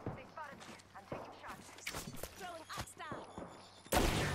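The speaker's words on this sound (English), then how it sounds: "This shotgun is garbage, bro. I just shot this kid so many times." Shotgun blasts in Apex Legends, several sharp, close shots spaced through the stretch among footsteps and game noise, ending on a louder burst, with voices talking over them.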